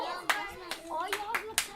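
Several hand claps ring out at a steady pace, about four over a couple of seconds, over continuous speech and children's voices in a room.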